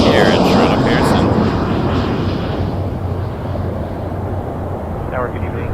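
A Citation jet on short final to runway 23 at Toronto Pearson, a loud broadband engine roar that slowly fades as it passes, with faint radio-style voices in the background.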